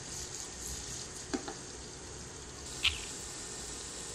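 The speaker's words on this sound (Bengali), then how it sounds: "এখন পেঁয়াজটা ভাজা হবে, তারপরে মশলাগুলো দেব।" Onions frying in a pan for beef kofta curry make a soft, continuous sizzle with a couple of brief clicks, faint and without voices.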